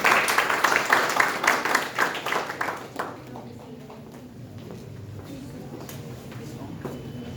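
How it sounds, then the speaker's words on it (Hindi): Audience applause at a B.Ed. department seminar greeting a student speaker: dense, loud clapping from a crowd for about three seconds, fading quickly into quiet room tone with scattered claps. "कृपया आप सभी ताली बजाएं और उनका स्वागत करें।"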